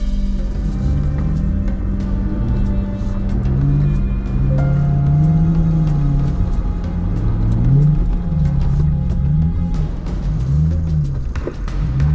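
A 4x4 engine in four-low gear drones steadily on a steep downhill descent, loud and close inside the cab with continuous low rumble, slight revving swells and no talking.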